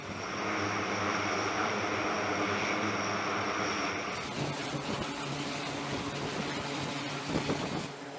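Steady propeller and turbine drone of an E-2 Hawkeye early-warning aircraft on an aircraft carrier, loud and continuous, with a high whine fading midway as a rougher rumble with faint clatter carries on, no talking.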